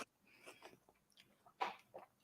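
Crunchy fries are chewed close to the mic, producing quiet, irregular crisp crunches and bites with short pauses between them.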